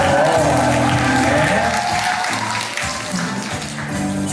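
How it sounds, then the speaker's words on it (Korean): Audience applause at a Women's Week commemoration lecture contest in Gumi, welcoming the mayor and guests. Clapping sits close and loud alongside a sustained musical tone, with crowd murmur mixed in. "여러분 큰 박수를 부탁드리겠습니다"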